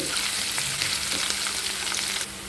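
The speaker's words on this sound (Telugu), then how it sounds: "ఇప్పుడు మంచి కలర్ వచ్చే వరకు ఫ్రై చేసుకోవాలి పోపు బాగా వేగితేనే టేస్ట్ ఉంటుందండి" Spices for mango pickle tempering sizzle and crackle in hot oil, a dense, steady frying hiss with small pops, close up and uninterrupted.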